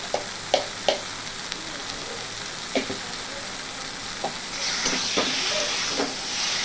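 Taro leaves with sugar and salt sizzle on high flame as a spatula scrapes in a few sharp strokes, then a louder hiss of steam and frying rises toward the end.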